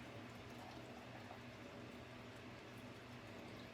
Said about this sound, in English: now we're going to put in our hot water